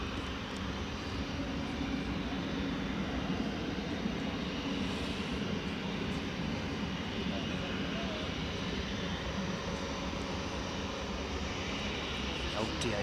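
An Airbus A300 freighter at East Midlands Airport runs its jet engines in a continuous, fairly distant broadband roar with a faint whine, while a voice talks over the top.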